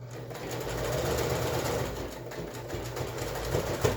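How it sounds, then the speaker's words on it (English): A sewing machine stitches through multiple layers of fabric for a pleated face mask, running in a fast, steady mechanical whir for a few seconds, close and alone with no talking. "I do make sure there's 2 layers of stitching around, and just go around once again"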